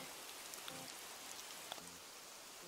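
Soft, steady rain hiss from the Animal Crossing video game, a faint even wash of falling drops with a few scattered patters, heard alone at low volume.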